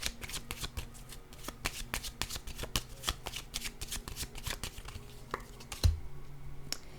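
Tarot cards being shuffled close up, a rapid run of crisp flicking riffles with a few sharper snaps and a soft knock near the end, no voices.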